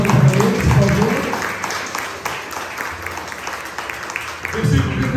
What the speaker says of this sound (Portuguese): Você pode aplaudir a esse Deus maravilhoso?